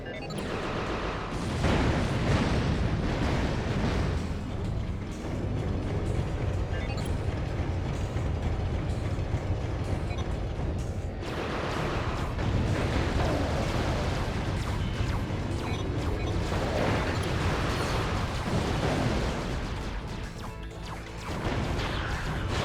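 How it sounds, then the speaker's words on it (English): Landstalker mortars blasting quasar orbs in Ratchet: Deadlocked, a long run of loud crashing explosions and heavy booms that repeat close together over dense game sound. "you will have to use the Landstalker's mortars to destroy those quasar orbs"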